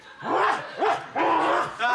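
A dog barks in a comedy sketch, with four loud, close woofs and yelps in a quick, uneven run that fills the whole moment.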